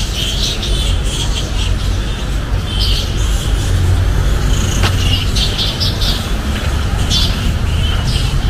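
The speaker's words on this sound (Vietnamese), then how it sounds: "Các bạn có thể nghe thấy rất rõ tiếng chim hót líu lo ở trên cái cây này." Many birds chirp and warble in a tree just after 7 in the morning in Cameroon, a continuous bright chorus over steady loud background noise with no pauses.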